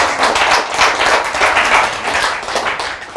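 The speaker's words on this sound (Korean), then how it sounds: "박수!" A church congregation claps together in dense, steady applause that fills the room close by for a few seconds, with no voices over it.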